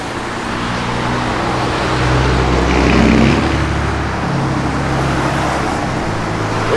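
A 1966 Dodge Coronet 500 with a 727 Torqueflite automatic idles close by, a deep, steady rumble that swells briefly in the middle and then settles back, with nobody talking.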